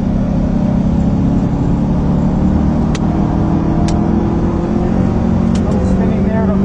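A 2009 Cadillac CTS-V accelerating hard through its gears on a test drive, with a loud, steady engine drone and exhaust roar filling the cabin, occasional shift transitions, and some talk over it.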